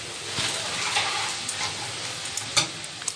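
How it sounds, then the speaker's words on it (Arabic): Breaded cutlet slices sizzle in a hot pan, a steady close hiss of frying oil with scattered crackles and sharp pops, and no talking. "ننزل كده بشرائح البانيه الجميله بتاعتنا دي"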